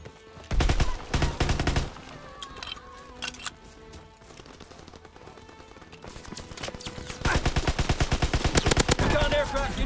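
Rapid gunfire from the World War II shooter game crackles in dense automatic bursts, loud near volleys at the start and again building toward the end, with quieter scattered shots and shouted voices between.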